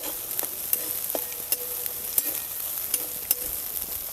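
Garlic and green chilies fry in a pan of hot oil for a chickpea-leaf bhaji, giving a steady close crackling sizzle broken by several sharp clicks and scrapes of a stirring spoon.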